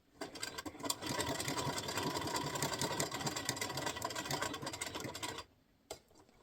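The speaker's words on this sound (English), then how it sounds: "We're going to go stitch right up to about 1 inch before the edge." A sewing machine runs steadily as it stitches a cushion seam, a continuous close mechanical whirr for about five seconds, then stops, followed by a single brief knock.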